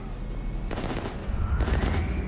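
Gunfire in Mass Effect 3 on Insanity difficulty, a dense burst of shots that picks up near the midpoint and keeps going over steady rumbling game noise, close and loud, with no talking.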